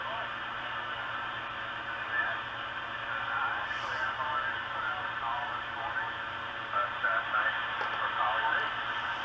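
Amateur radio station on the 7.192 MHz band received through a web SDR, a faint voice buried in steady hiss and static, distant and barely intelligible throughout.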